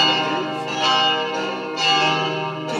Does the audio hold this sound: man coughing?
no